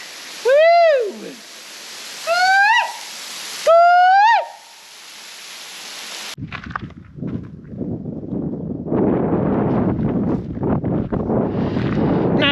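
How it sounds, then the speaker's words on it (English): Strong wind buffets the microphone at Craig's Hut in Victoria's High Country on a rainy day, a continuous broadband roar that follows a few high sweeping bird-like calls and builds steadily louder toward the end. "because it's rainy, it's pretty bloody windy"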